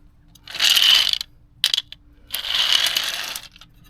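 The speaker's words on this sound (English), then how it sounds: "We just keep taking bolts off until we get enough off that we get done what we need to get done" A ratchet wrench clicks in two long bursts with a short burst between, loosening bolts on a Victory motorcycle during a starter replacement, close and clear with no talk.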